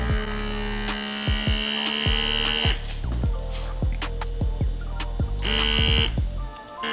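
A RecoverFun air cupping therapy device runs on mode 4, giving a steady electric buzz and hum with repeated pulsing cycles of motor and pump noise, close and continuous with no talking.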